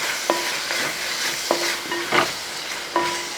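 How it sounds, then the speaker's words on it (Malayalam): Coriander leaves stirred into prawn biryani gravy, giving a few distinct scraping strokes of a spoon against the pot about once a second, close up over a soft simmering bubble, with no talking. "ഒരല്പം മല്ലിയില ഇതിൻ്റെ അകത്തോട്ട് ഇട്ട് കൊടുക്കുക ഇങ്ങനെ ഇളക്കി"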